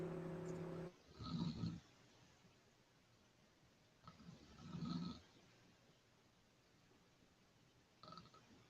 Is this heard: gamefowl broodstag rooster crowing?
no